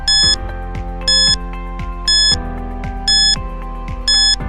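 A quiz countdown timer plays alone as a loud, steady electronic alarm-clock beeping, bright beep bursts repeating about once a second over a rhythmic pulsing tone.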